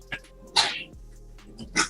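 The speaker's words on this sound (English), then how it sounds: "Did you sneeze?" A sharp, sudden sneeze bursts out once midway, with a second similar burst near the end, both close and loud against a quiet background.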